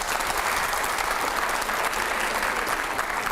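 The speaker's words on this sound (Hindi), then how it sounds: "जिसमें ताली बजाने का मन हो उसी में बजाना," Studio audience applause fills a TV show's final quiz round, a dense, steady clapping that holds at an even level throughout with no voices rising above it.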